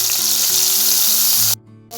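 Green chilli, garlic and ginger paste sizzles steadily in a hot pan, a loud, close frying hiss that cuts off abruptly near the end.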